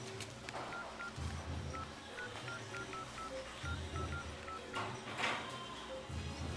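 Mobile phone keypad being dialed in a Tamil film scene, a string of short electronic tones pressed one after another at an uneven pace over a low room background.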